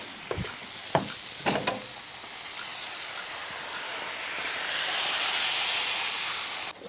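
Crepe batter spread with a rake across a hot crepe maker: a few short scrapes at the start, then a steady, close hiss and sizzle that swells slightly and holds before cutting off, with no talk.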